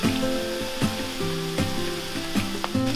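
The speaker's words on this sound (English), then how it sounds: "I'm just gonna stir this and combine it." A spoon scraping and stirring a casserole mixture with cream cheese, ketchup, mustard, Worcestershire sauce and seasoned salt in a pan, giving a steady sizzle with repeated scraping strokes about every second.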